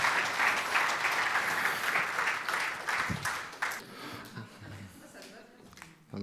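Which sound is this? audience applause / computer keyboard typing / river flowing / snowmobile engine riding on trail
audience applause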